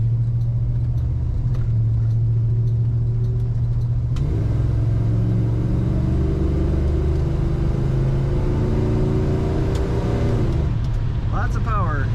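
A 1968 Dodge Charger two-door hardtop with an automatic gearbox pulls up to speed, its deep engine rumble rising steadily under constant road and cabin noise, heard from inside the car.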